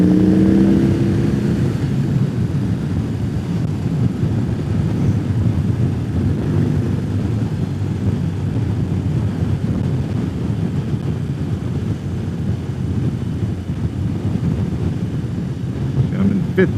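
A 2021 BMW R18 motorcycle cruising in sixth gear at highway speed, a constant low engine drone mixed with heavy wind rush, steady and loud from start to end.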